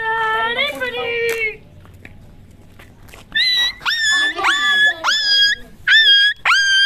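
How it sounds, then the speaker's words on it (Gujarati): A dog whimpers and yelps nearby in a series of high, whining cries, with a quiet gap after the first burst and then several sharp repeated yelps. "તો કુતરું આવી ગયું છે જોઈ શકો છો"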